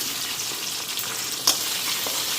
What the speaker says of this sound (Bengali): এখন আলুগুলি ফ্রাই করে নিই